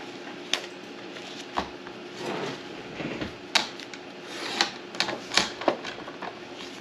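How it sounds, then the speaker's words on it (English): Paper card pieces being trimmed for a double flip book card, a series of sharp snips and paper rustles spaced irregularly, close and moderately loud with no talking. "I am just going to trim these because they will work"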